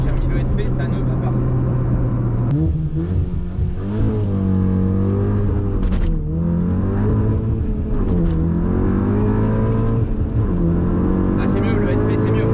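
Seat Leon Cupra track car tuned to 480 hp, launching from a standstill, with a loud, sustained engine roar whose pitch rises and dips through gear changes, heard from inside with someone talking over it.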